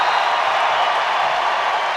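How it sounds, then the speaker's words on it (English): A stadium crowd at a women's soccer match, Portland Thorns against Seattle Reign, roars steadily at full time in one broad, dense wash of cheering that holds loud and unbroken throughout. "You can tell by the roar of the crowd that Portland has secured the 2-1 win over Seattle"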